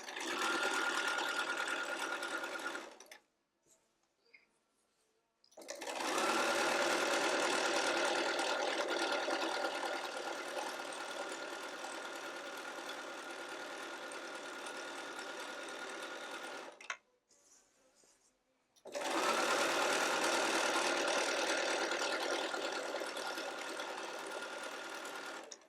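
A sewing machine stitches a burrito pillow case in three long, steady, close runs of rapid mechanical whirring, split by short near-silent pauses.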